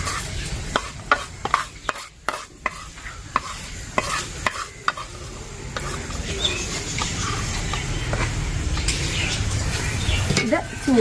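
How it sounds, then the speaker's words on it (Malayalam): Grated coconut roasting in a pan for a cauliflower and green peas curry, giving a steady close sizzle with repeated sharp scrapes and knocks of stirring, and no talk. "നമ്മുടെ നാളികേരം ഇതേപോലെ നമ്മൾ നല്ല ആയിട്ട് ഒന്ന് വറുത്തെടുത്തിട്ടുണ്ട്"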